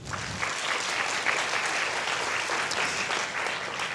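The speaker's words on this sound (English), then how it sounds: "with our applause" Steady audience applause fills a conference opening plenary hall, a dense even wash of many hands clapping throughout, with no talk over it.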